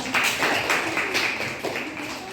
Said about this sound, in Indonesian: Kita sekali lagi berikan tepuk tangan untuk kelompok 4